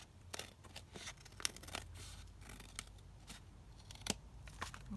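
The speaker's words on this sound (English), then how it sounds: "I'm just going to cut across the top here to open that out." Scissors cutting across the top of a paper folio, a quiet close series of crisp snips and paper rustles spread irregularly over several seconds.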